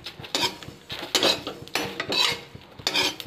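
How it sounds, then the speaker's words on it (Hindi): Yellow and black mustard seeds dry roasting in a pan, with repeated scraping and clinking of a spoon against the metal in a steady rhythm. "दोनों को मिक्स करके इसको ड्राई रोस्ट कर रहे हैं"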